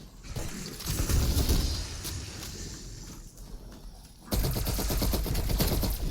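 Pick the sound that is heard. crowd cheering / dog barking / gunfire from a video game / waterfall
gunfire from a video game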